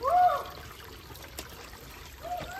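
Light spring water trickles and dribbles in a thin stream at Manikgad Fort, fairly close, with a brief louder splash at the start and quiet flow after.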